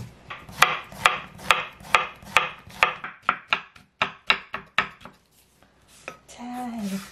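A knife chops zucchini on a cutting board in a home kitchen, a quick run of sharp, evenly spaced knocks that slows and then stops, followed by a brief clatter of kitchenware.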